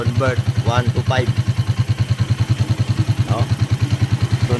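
A Rusi TC 100cc motorcycle engine converted to a CG 125cc engine idles in neutral with a steady, even, loud putter close by while someone talks over it throughout.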